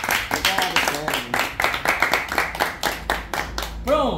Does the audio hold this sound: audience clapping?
yes